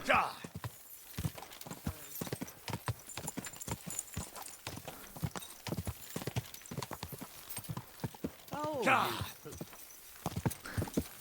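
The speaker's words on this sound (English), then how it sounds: "Little horsey. Let's go." Horse hooves in the video game Kingdom Come Deliverance 2 beat a steady, close clip-clop rhythm throughout, with a brief whinny rising near the end.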